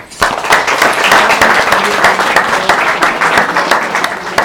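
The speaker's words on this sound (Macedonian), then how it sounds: "ќе замолам да ги охрабриме со еден аплауз" An audience at a book promotion claps warmly to encourage children about to act out a fable, a dense, loud burst of applause that carries steadily from start to finish.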